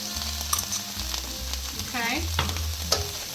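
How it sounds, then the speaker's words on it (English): Thai green curry paste sizzles steadily in a hot pan, a close continuous fry with some stirring, and a person briefly speaks over it. "Just gonna let that cook a little bit, get those aromatics coming out."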